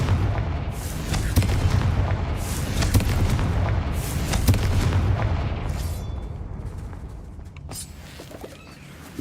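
Repeated Confringo fire spells explode in the Hogwarts Legacy video game, heavy rumbling booms and bursts rolling together loudly before easing off toward the end.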